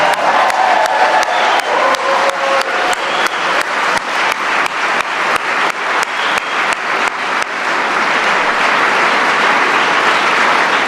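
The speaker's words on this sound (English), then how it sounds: "Let's give them a round of applause." A large audience at an economic development grant awards event claps loudly and steadily, the dense applause holding for about eleven seconds with faint cheering mixed in.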